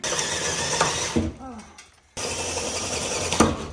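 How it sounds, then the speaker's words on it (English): A power drill whirs steadily, stops briefly, then starts up again and keeps running, loud and close. "This drill is so much easier than that other one."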